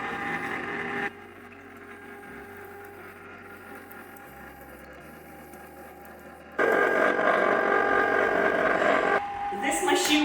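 A cheap home ice cream maker churning strawberry kefir ice cream: a steady mechanical motor whir and rumble, louder at the start and rising again later, with quieter stretches between.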